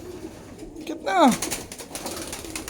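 Pigeons cooing close by, with one clear throaty coo rising then falling in the middle, surrounded by faint rustling, flapping and a brief spoken word.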